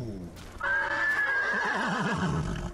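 A white samurai horse in the video game Ghost of Tsushima lets out one loud, close whinny that rises and then wavers down over a couple of seconds, with faint hoof clops.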